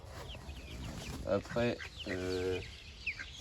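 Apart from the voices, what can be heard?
Marans hens clucking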